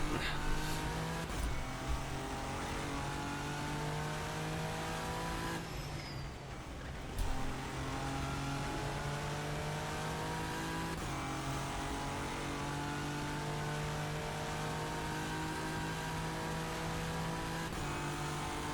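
A GTR race car engine in the rFactor 2 sim racing game, run at Le Mans, drones loud and steady at high revs for the whole stretch, with a short lift and gear change partway through and faint tyre noise.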